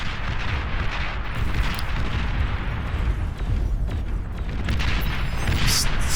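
Light artillery and explosions in the real-time strategy game Beyond All Reason form a dense, continuous rumble of booms and bursts, loud and steady throughout with no clear separate impacts.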